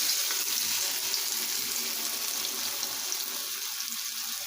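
Snacks being dropped one at a time into hot frying oil, giving a steady, dense sizzle that stays loud and even throughout, with no talking.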